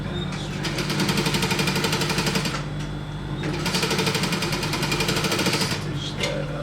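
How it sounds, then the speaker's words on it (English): Sewing machine running fast bursts of straight stitching on a welt pocket for a senator outfit: a dense rapid needle chatter that pauses briefly twice between runs, close and fairly steady. "I'm just going to stitch that straight down, straight down, straight down."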